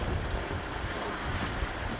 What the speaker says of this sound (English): Sometimes it's nice to be alone with the water moving against the hull